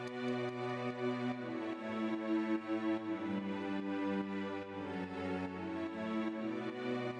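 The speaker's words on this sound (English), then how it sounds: "We added in the original samples with the Roland, which sounds like this." Sustained Roland synthesizer chords with layered harmonic tones, steady and full, playing continuously without any voices.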